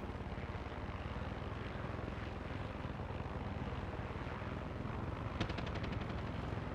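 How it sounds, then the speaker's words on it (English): An enemy helicopter armed with guns in the video game Far Cry 6 roars steadily with a dense rotor and engine drone, then a short burst of rapid gunfire rattles near the end. "And there is another helicopter."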